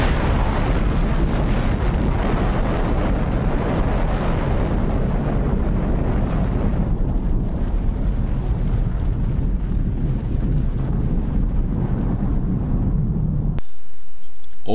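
Atomic bomb explosion from the bombings of Hiroshima and Nagasaki: a loud, sustained roaring rumble with dense low boom that churns continuously for about thirteen seconds before cutting off abruptly.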